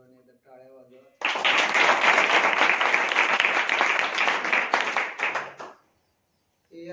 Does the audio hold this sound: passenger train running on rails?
no